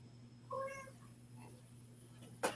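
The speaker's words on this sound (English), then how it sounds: "I hear a cat somewhere." A cat meows once, faint and somewhat distant, over a steady low hum. A sharp click follows near the end.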